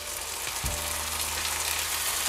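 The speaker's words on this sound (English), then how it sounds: "I wanna saute that for about a minute to get all the flavors to come out" Minced garlic and ginger sauté in a pan for butter chicken, giving a brief, continuous close-up sizzle with a faint low hum beneath and no voices.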